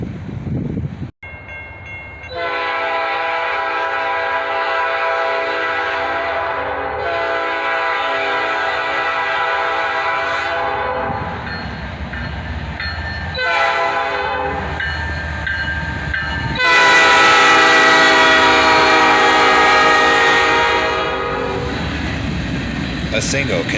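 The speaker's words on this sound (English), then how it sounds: "A single Canadian Pacific ES44 AC leads this train" A Canadian Pacific ES44AC locomotive leads a passing train, sounding several long, loud horn blasts with short gaps between them over a steady rumble of rolling wagons.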